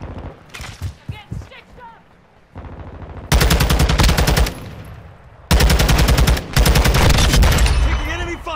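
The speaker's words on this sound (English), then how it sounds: "Taking enemy fire!" Rapid automatic weapon fire in Call of Duty: Modern Warfare II multiplayer, loud sustained bursts in two long volleys after scattered shots, with game voice callouts in between.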